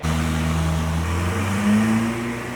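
A Ferrari 488 GTB fitted with upgraded turbos revs hard on a dyno, a loud, steady close-up engine drone whose pitch climbs briefly before easing off.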